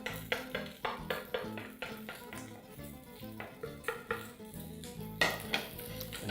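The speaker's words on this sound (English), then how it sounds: "proceed to add about half the portion of rice. And add your vegetables as well." Rice and vegetables going into a pan for Korean-style beef fried rice, with quiet clinks, scrapes and stirring taps against the pan at an uneven rhythm.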